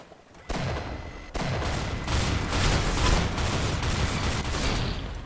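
Shotgun blasts in the Roblox shooter Arsenal: a steady barrage of loud gunfire with several sharp reports layered into a continuous dense roar of battle, sustained for several seconds.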